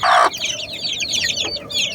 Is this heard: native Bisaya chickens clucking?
yes